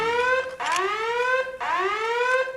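A comedic movie alarm from The Karate Kid Part II blares loudly in two rising, whooping siren-like cycles, harsh and buzzy, with no speech over it.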